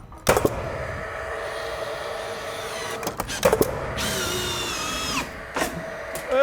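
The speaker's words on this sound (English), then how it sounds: "we're gonna come back and screw these into the column where all these headers are" A power drill drives GRK structural screws into a building column, with short whirring bursts and a longer rising whine as one screw goes in, separated by pauses, close and loud.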